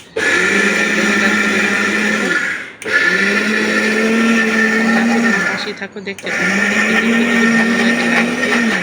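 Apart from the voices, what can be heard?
blender grinding soaked rice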